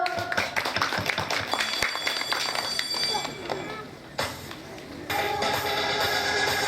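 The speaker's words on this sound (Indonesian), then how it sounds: "Tepuk tangan dong." Schoolchildren at an elementary school end-of-year event clap their hands in a brisk burst of uneven claps and taps, with voices talking through it and a brief lull before the noise resumes.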